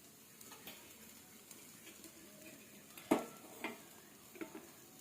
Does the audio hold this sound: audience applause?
no